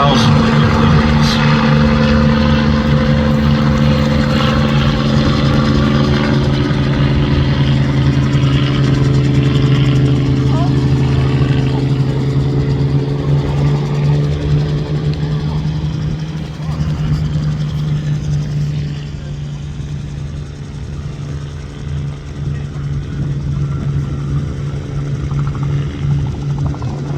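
An aircraft flies during the air display at the Midlands Air Festival 2025, its loud, steady engine drone holding for the whole stretch and easing slightly toward the end.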